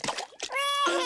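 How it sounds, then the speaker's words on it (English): Cartoon water splashes in a swimming pool, quick splashy bursts near the start, then a sustained voice-like tone takes over the rest. "But you don't need to splash quite so much."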